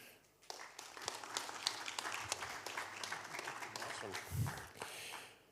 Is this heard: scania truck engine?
no